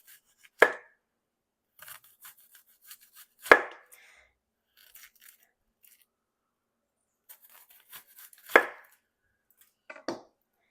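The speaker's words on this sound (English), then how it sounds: "I'm just going to do a couple slices." A knife cuts through a red onion on a board in a kitchen, four crisp, separate chopping thuds spaced a few seconds apart, each with a light crunch, over quiet background.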